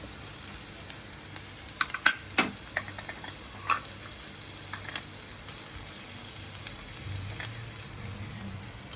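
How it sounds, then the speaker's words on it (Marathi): Onion frying in a pan with ginger garlic paste added, a faint steady sizzle close by, with a few light clicks and taps from a spoon stirring. "आणि बघा कांद्याचं झालंय, हे आले लसूण पेस्ट घालून देते मी"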